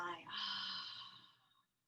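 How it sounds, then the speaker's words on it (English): A single audible exhale through the mouth during a guided meditation, a soft breathy sigh that swells quickly and then fades over about a second, close and quiet. "Exhaling audibly. It may sound like a beautiful sigh."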